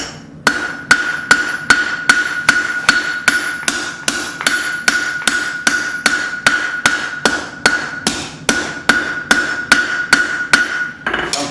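Hammer blows forging mild steel for the top of a Bowie knife handguard, a steady run of about two dozen loud, ringing strikes at a quick even rhythm, close by with no talking.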